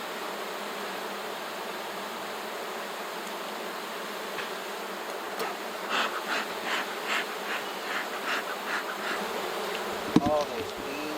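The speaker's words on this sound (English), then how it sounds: "All those bees." Steady, dense buzzing of many honey bees close by at an open hive, with a louder, pulsing swell of wingbeats in the later seconds and a brief knock near the end.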